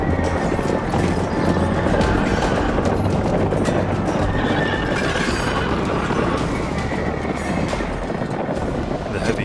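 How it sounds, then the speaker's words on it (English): A dense cavalry charge sound effect in which many galloping horses thunder together with neighing and whinnying, a continuous loud wash of hoofbeats and rumble throughout. "Theodore sent his Latin knights to charge"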